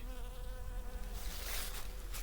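Bees buzz in flight around a hive, a dense close insect drone that swells in intensity as individual bees pass nearby, with no talk.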